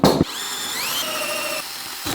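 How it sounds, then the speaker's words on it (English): A power drill whines steadily with a rising pitch as a hole saw cuts plywood, running for about two seconds between short bursts of louder grinding. "I'm gonna be trying to use the hole saw to drill out 3 knobs"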